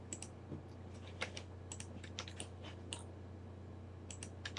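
Computer keyboard hotkeys tapped while modeling in SketchUp, a quiet, close run of irregular light clicks and key presses over a steady low hum.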